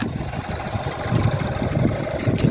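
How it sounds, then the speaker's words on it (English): A 2018 Audi A3 1.5 TFSI CoD Sportback with S Tronic gearbox idles nearby, a low, even engine hum with a soft, regular pulse and no talking. "You can hear the engine just purring away."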